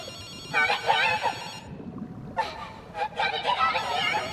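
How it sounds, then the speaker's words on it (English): A telephone rings in the video game Ghostwire: Tokyo, sounding as two bursts of a bright, trilling electronic ring with a short gap between them, against a low background hum. "I'll answer the phone and see what happens."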